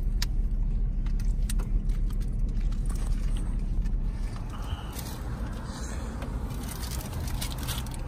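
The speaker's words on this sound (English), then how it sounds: "And here we are stuck in traffic." Road traffic in a jam heard from inside a car, a steady low rumble of idling and creeping vehicles with light rattles and clicks nearby.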